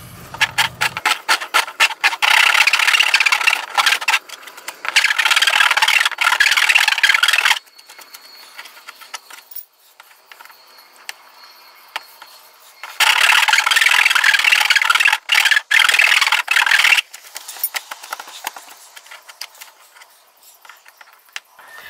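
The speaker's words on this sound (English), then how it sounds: "I'll just deburr this a little bit." A drilled hole in a Subaru Crosstrek's body is deburred by hand during a trailer wiring install, giving bursts of loud, dense scraping and grinding rubs separated by quieter pauses with faint ticks.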